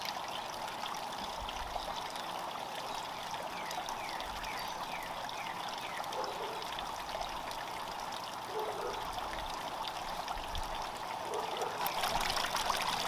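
Water trickles steadily in a garden fountain, a soft, continuous, fairly faint babble with no talking.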